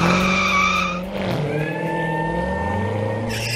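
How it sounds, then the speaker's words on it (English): Squealing tires of a Corvette skidding, a loud sustained screech with rising whine layered over engine rumble, steady and close throughout. "Where the heck did this Corvette come from?"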